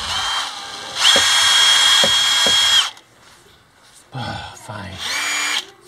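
A power drill drives tiny screws into a boat rudder: a high-pitched motor whine runs in two long bursts and a shorter one, with brief clicks and a pause between runs.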